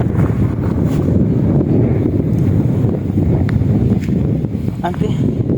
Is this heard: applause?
no